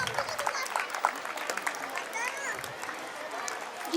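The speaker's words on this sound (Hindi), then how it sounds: "एक जोरदार तालियां प्रियंका नामदेव जी के लिए बजना चाहिए" Applause from an audience at a school annual function as a teacher receives a Teacher of the Year award on stage, a steady wash of clapping at moderate distance with crowd murmur and talk mixed in.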